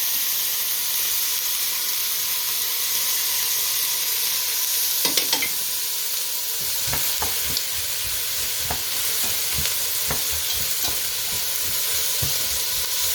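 Onions, carrots and celery root hiss steadily in a hot pan, with a burst of clatter as the vegetables go in and then a run of scraping, stirring knocks over the continuing sizzle.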